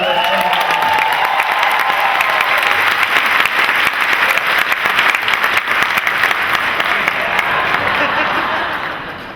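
Large convention audience at a Dragon Con Smallville panel with Tom Welling and Michael Rosenbaum, applauding loudly and continuously with some cheering, sustained for about nine seconds before tapering off at the end.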